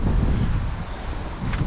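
Gusts of wind buffet the microphone outdoors, a loud, low, blustery roar that surges and dips across the moment with no other clear sound.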